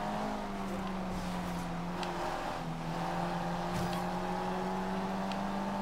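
A race car driven in the Forza Horizon 2 game hums along at speed, a quiet steady engine drone with shifting tonal pitch, faint and continuous with small tire and road noises over it.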